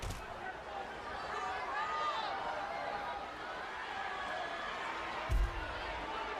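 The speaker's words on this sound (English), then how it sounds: "You can hear the crowd tonight loving this match" The crowd in a WWE 13 wrestling arena hums as a steady, moderate murmur of cheering and chatter, with a brief thud near the end.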